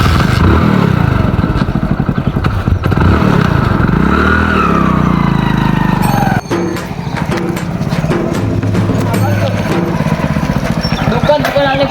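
A newly bought motorcycle's engine runs steadily and loudly close by, its pitch wavering and dipping at times, with rattling clatter mixed in throughout.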